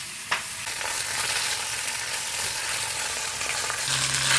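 Vegetable chochchori is reheated in a little leftover fish oil, giving a steady, close, broadband frying sizzle with a couple of faint stirring clicks and no talk.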